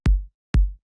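Two short, punchy minimal techno kick drum hits, tuned to F with a deep booming tail, play soloed and evenly spaced about half a second apart, each a sharp attack decaying quickly into silence.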